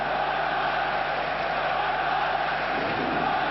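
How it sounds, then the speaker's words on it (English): A large crowd fills an ice hockey rink of nearly 11,000 seats before a 1993 world championship quarterfinal between Germany and Russia, a dense, steady roar of murmuring voices with no distinct cheers, heard from a distance. "Listen to the crowd in the background, and the game hasn't even started."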